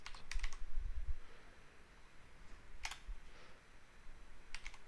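Typing on a computer keyboard sounds as a few quiet, close key clicks and taps, arriving in short clusters with pauses between them, against a soft room hush.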